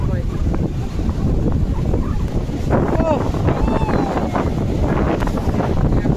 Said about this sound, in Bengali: সাংঘাতিক হাওয়া দিচ্ছে, সাংঘাতিক।